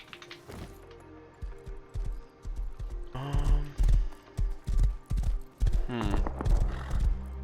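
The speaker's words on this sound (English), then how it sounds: "Horse." In the survival video game Rust, a horse's hooves clip-clop in a loud, close, rhythmic series of heavy thuds that quicken into a steady trot, with brief snorts in between.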